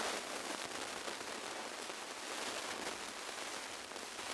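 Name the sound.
rain falling, easing off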